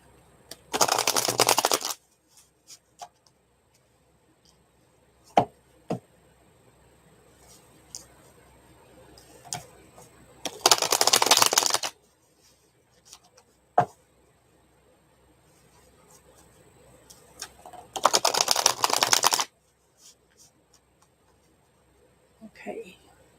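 Tarot cards are shuffled in three short bursts of riffling, each about a second long and spaced several seconds apart, close and crisp, with faint taps and handling noises between them.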